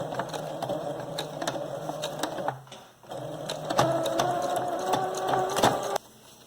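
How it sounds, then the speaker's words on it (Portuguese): A sewing machine stitching bias binding onto fabric, its needle chattering in steady, fast runs that pause briefly before resuming, close and clear with no talk over it. "E aí, eu vou costurando."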